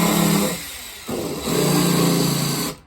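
A cordless drill with a nearly flat battery runs in two bursts, the motor sagging and slowing in the first, pausing, then whirring again at a labored pitch before stopping.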